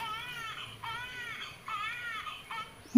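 An infant cries in repeated wailing bursts, a little distant and muffled, with faint background noise and a sharp knock at the end.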